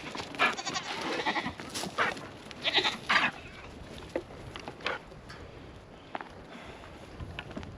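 Goats bleat near and loud on an off-grid homestead, several overlapping calls in the first few seconds, then thinner, scattered bleats and shuffling.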